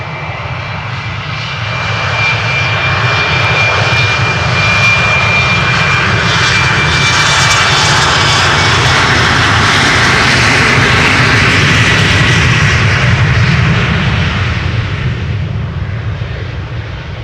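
A KLM jet airliner takes off from the Polderbaan runway at Schiphol, a loud, sustained engine roar that swells and holds steady for most of the stretch, broad and rumbling, with no voices over it.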